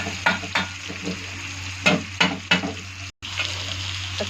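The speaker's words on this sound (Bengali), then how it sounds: "দেখো আলুটা ভালো করে ভেজে ভেজে নেব।" Potatoes frying in a pan for soybean sabji, a low steady sizzle punctuated by a series of brisk stirring scrapes, with a brief dropout near the end and no one speaking.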